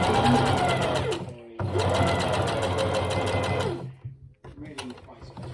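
A sewing machine stitches a duffle coat in loud, fast mechanical bursts, pausing briefly between runs, with a voice talking over the stitching.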